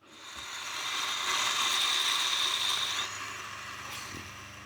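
A coffee grinder running with a stone among the beans: a loud, steady motor whine from the burrs that cuts off abruptly as they jam, followed by a brief knock.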